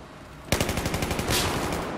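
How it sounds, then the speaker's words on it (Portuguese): Rapid automatic gunfire in the video game Battlefield 1, a quick rhythmic string of close, loud shots that starts abruptly and keeps rattling for about a second and a half. "Rolou tiro em mim"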